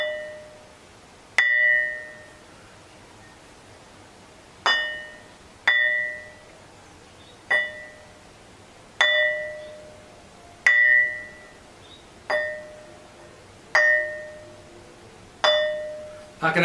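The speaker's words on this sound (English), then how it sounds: "that's how it rings" Struck quartzite rock with a blackened, metamorphosed surface rings out in sharp metallic pings, about ten strikes spaced a second or two apart, each tone sustaining and fading before the next.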